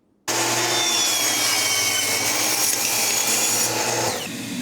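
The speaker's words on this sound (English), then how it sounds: "I'll use the miter saw to break down these narrower pieces, which will get cut in half and then cut diagonally" A miter saw cuts through a narrow wood piece, its blade starting abruptly into a loud, steady whine and rasping bite for about four seconds, then spinning down.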